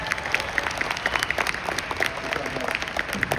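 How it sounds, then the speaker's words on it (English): A modest convention audience of around fifteen people gives a round of applause, producing scattered, distinct hand claps at a moderate level that patter on irregularly for a few seconds. "So give them a nice round of applause."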